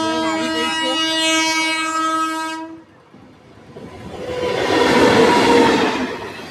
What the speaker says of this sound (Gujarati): કેવી ટ્રેન આવી બે ડબ્બાવાળી રેલગાડી